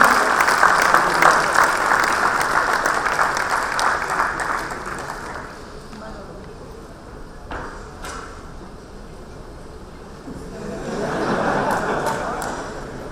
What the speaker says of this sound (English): can we have a loud round of applause for Mr. Ishneer Grover, ex-MD Bharat Bhai and Shark Tank India